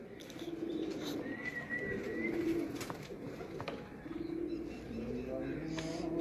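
Pigeons at a racing pigeon loft coo in soft, repeated low rolling calls, with a few chirps and a brief flutter over a busy steady background.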